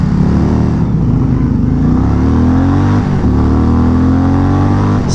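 A 2023 Indian Pursuit touring motorcycle with a liquid-cooled engine pulls hard from a stop to 60 mph, its loud, close engine note rising through several gear shifts.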